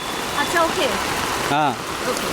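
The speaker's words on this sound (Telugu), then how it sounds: "కంప్లీట్లీ వర్షం ఇగో చూడండి" Heavy rain pours down in Hyderabad, a steady broadband wash holding through the whole stretch, with voices speaking over it.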